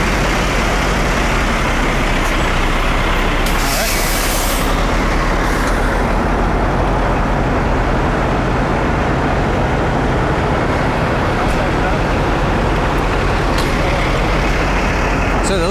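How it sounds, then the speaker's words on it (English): A truck drives past a head-on crash scene on a Los Angeles freeway with a heavy, continuous engine rumble and road noise, broken by a brief hissing burst partway through. "Let's watch out for the truck."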